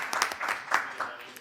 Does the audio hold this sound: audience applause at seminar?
yes